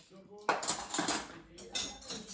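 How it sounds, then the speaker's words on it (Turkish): Dishes and cutlery clatter and clink in a few sharp bursts, close by, as items are set down and shuffled together. "Bulaşıkları atalım."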